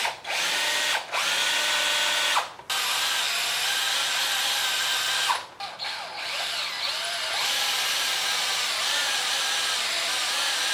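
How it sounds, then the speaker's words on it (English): A power drill with a very thin bit bores out a stuck bolt on a master cylinder, whining loudly and steadily in bursts with brief stops near the start, then running on continuously. "I am just going to drill that bolt out"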